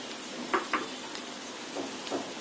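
Jhalmuri spice masala of turmeric, cumin, coriander and garam masala powders fries in a generous amount of oil, a steady soft sizzle with a few brief clinks of a utensil against the pan, and no voices.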